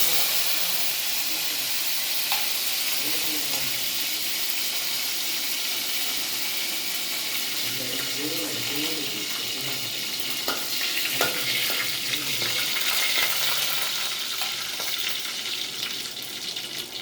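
Mustard seeds spluttering in hot oil for a spicy Kerala-style sardine curry: a steady, fairly loud sizzling hiss scattered with sharp little pops and crackles, continuing without any talk.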